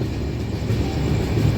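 The Tirupati to Kakinada Express, running with LHB coaches, rumbles past at a platform with a steady low rolling roar and faint wheel clatter, close and continuous.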